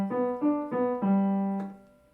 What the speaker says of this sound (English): The arpeggio sounds like this.